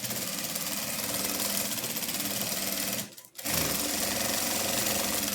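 A sewing machine runs steadily while stitching a fabric headboard cover, a continuous close, fairly loud mechanical whir that stops briefly near the middle and then resumes.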